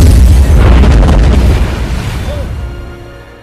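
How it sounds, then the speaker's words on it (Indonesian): A missile fired from a weapon-concealing umbrella in the Johnny English film explodes in a loud, rumbling boom that rolls on and slowly fades, with a faint voice underneath. "Johnny segera menggunakan payung itu dan berhasil menembak Simon."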